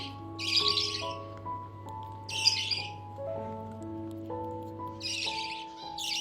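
Two young blue baby budgies give short, harsh begging squawks in a few separate bursts during hand-feeding, heard close over soft background music.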